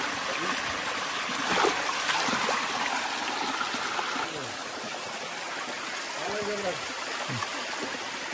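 Running water splashing steadily as fruit is rinsed under a tap, a continuous trickling stream with a few brief voices talking over it.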